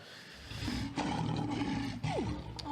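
A lion sound effect roars in a deep, growling burst lasting nearly three seconds, loud and close with a rough sustained rumble.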